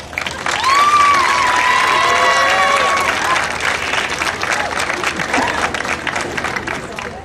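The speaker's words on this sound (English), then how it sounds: "please give your parents a round of applause" A high school class of 2012 applauds their parents at a graduation ceremony, sustained clapping from a large crowd with a few whoops and cheers over it before it thins out.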